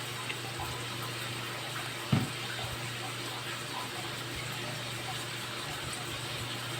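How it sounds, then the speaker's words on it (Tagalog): Running water in a sink while vegetables are washed, a steady broadband rush with one short knock partway through, no speech over it. "naghuhugas lang po ako ng gulay guys bago ko ilagay"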